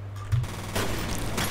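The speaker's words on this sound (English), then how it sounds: "He took a hell of a lot of fucking fire there." Gunfire in the F.E.A.R. video game on a water treatment plant level: a couple of sharp bursts of shots over a low rumbling backdrop, loud and close.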